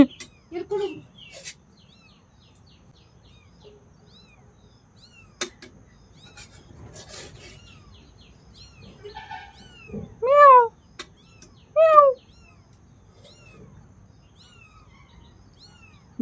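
A mother cat with kittens gives a few meows, two louder rising ones near the end, amid faint birdsong and sparse small noises in a quiet outdoor setting.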